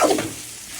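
Liver with onions and spices sautés in a pan, a short burst of stirring and sizzling that fades quickly into a soft hiss.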